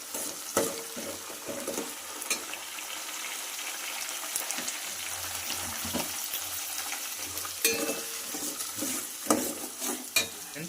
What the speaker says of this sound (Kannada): ತೊಗರಿಕಾಯಿ ಕೂಡ ಎಣ್ಣೆಲಿ ಫ್ರೈ ಆಗ್ತಿದೆ